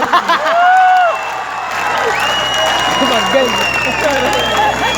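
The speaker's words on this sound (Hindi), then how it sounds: "मुझे पता था कि हनीमून शब्द पर तालियां ज्यादा आएंगी।" Audience applause at a live poetry recital event, a dense wash of clapping and some cheering that swells, dips, and continues steadily throughout, with a voice speaking over it.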